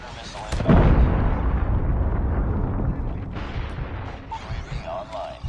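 Predator missile strike explosions boom across a Call of Duty Mobile battlefield, one heavy blast followed by a sustained rumbling roar with game voice callouts faintly underneath.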